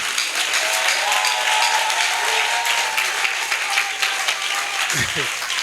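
A church congregation at an offering service cheers and claps for Jesus, with dense, steady applause and voices filling the room throughout, a brief low thump near the end.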